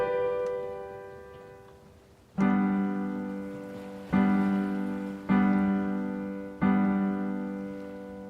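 A flute tone tuned to 440 hertz, sounded as four sustained notes with sharp attacks that slowly fade, each held steady and clear with no talking.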